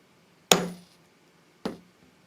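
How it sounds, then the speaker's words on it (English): Two sharp, ringing blows from a 4-pound sledgehammer striking metal on a tabletop, the first louder, each with a short metallic decay, spaced about a second apart with no talk. "Now you must use a 4-pound sledgehammer, and you have to hammer it fairly square."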